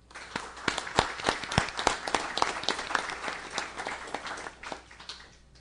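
Audience applause for volunteers at a City of Millville ceremony, a burst of sharp, dense hand claps rising quickly, holding steady, then thinning out toward the end, with no talk over it.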